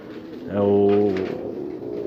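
A single soft pigeon coo, close and clear, rising and fading over about a second against quiet background.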